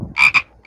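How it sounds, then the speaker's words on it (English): A frog croaks in three quick, loud, close rasping pulses, a longer burst followed by two shorter ones, with nothing else heard. "Frog."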